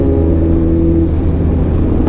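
A Kawasaki Z900 motorcycle engine runs close by with a loud, steady low rumble and a constant droning hum, holding an even pitch throughout.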